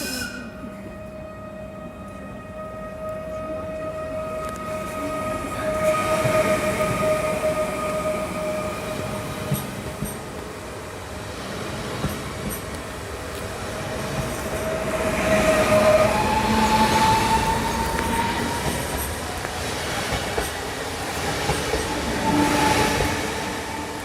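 A passenger train pulls out of Legionowo station, its steady rumble swelling and fading with wheel clatter and faint squeals, loud and close, with no one talking.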